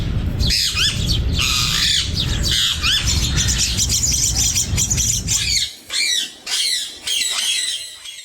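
Parrots and other birds in a home aviary in Pakistan squawk loudly and repeatedly, harsh calls overlapping with chirps, then sharper separate squawks with brief pauses toward the end.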